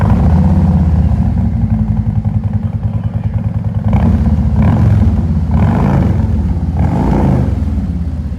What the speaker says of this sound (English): Now I'm going to fire the bike up. It's time to hear just how great it sounds.